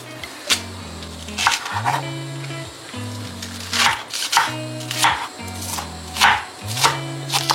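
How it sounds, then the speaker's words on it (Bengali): A knife slicing spring onion leaves lengthwise on a board gives a steady run of sharp, close chops in an even rhythm, heard over a low musical background. "পেঁয়াজ পাতাটা না এরকম লম্বা লম্বা করে কিন্তু কাট করবে, কুচি কুচি নয়।"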